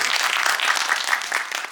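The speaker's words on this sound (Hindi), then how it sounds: "ताली जो बजा रहे थे" A crowd listening to a devotional talk about the breaking of Lord Ram's bow bursts into brisk, dense applause, a steady close wash of clapping that carries on evenly for a couple of seconds.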